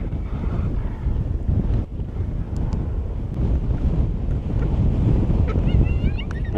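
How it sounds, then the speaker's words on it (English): Strong outdoor wind buffets the microphone in a steady, loud low roar with gusty swells, during a South Dakota coyote hunt, with a faint high squeal near the end. "it's definitely windy enough"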